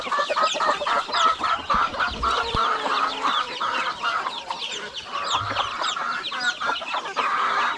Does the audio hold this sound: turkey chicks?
yes